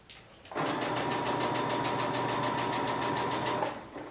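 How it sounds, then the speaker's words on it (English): A sewing machine stitches a straight seam through pinned fabric, its steady fast motor-and-needle whir starting after a short pause and running evenly and close for about three seconds before stopping. "I'm going to keep sewing. And I'm also double checking my fabric as I sew"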